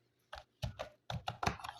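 Date being typed into an Excel spreadsheet on a computer keyboard: several short bursts of close key clicks in quick irregular clusters, separated by brief pauses, with no talking.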